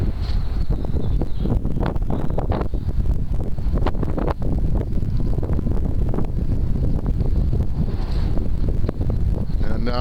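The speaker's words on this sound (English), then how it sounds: "I can't turn the wind off, so bear with me." Outdoor wind gusting hard against a microphone, a continuous loud low rumble with buffeting throughout, while a voice talks over it.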